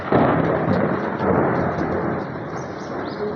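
Loud, close roll of thunder during rain, a deep rumble that breaks in abruptly and slowly fades away, with no voices over it.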